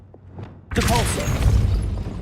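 A Depulso push spell in Hogwarts Legacy forcing a gate open: after a quiet start, a sudden loud whooshing boom erupts, followed by a sustained rumbling, grinding rush that slowly fades.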